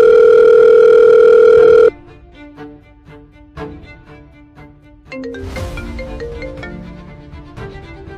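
A telephone dial tone hums loud and steady for about two seconds before a call is placed. Quieter soft clicks and faint muffled sounds follow as the number goes through.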